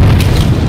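A deep, loud rumbling explosion in the video game Planetside 2 fills the short moment, heavy and sustained with a low roar.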